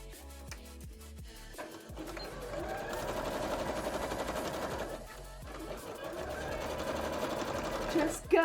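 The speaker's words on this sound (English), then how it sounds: "This is going to be a struggle to sew this to the other bit" A sewing machine stitches through thick fabric for a Pumpkaboo pumpkin cosplay, running in steady loud bursts with a brief pause midway, while a person talks over it.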